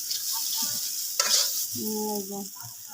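Spices with black cumin are stir-fried in a pan for stuffed-taro-stem frying, a close steady sizzle with a sharp scrape of the spoon midway and faint tonal background noise.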